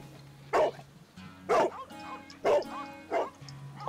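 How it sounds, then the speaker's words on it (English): Dog barking in the Sherlock Holmes: The Devil's Daughter game, four evenly spaced barks with a slight yip to them, set against a low background drone, fairly close and clear. "that's cool with the other barking in the background"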